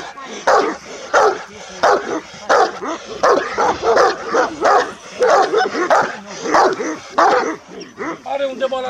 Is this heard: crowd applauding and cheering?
no